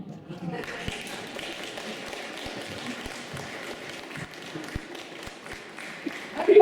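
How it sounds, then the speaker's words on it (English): Audience applause for Margaret at an International Women's Day community event at Deaf Village Ireland, with scattered claps and taps under a speaker's voice that swell louder near the end. "Everybody give Margaret another round of applause, please"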